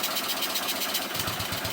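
A Honda GL500 (CX500) motorcycle engine idles close by, a steady loud throbbing pulse with a slight uneven, rich-running beat, and no voices over it.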